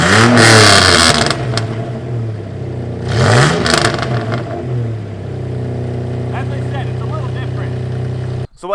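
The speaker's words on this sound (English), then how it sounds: "the new exhaust is officially installed, and it sounds a little different" A 1989 Toyota pickup engine with a newly installed exhaust revs loudly and close, surges again, then settles into a steady, raspy idle drone.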